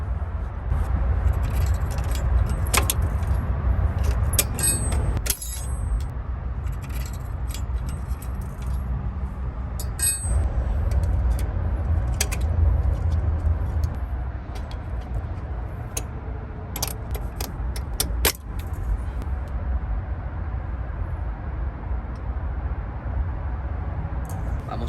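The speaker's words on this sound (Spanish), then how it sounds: "para remover los springs voy a utilizar unas pinzas como esta" Pliers work the rear brake springs off a Toyota Tacoma. Close metallic clinks, jangles and sharp snaps come at irregular intervals over a low background rumble.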